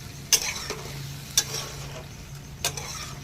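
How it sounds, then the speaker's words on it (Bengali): Chicken pieces cooking with papaya sizzle gently in a pan as a spatula stirs and scrapes three times in sharp, spaced strokes over a steady low frying hiss, with no talk. "একটু ভাজা ভাজা হয়ে আসছে।"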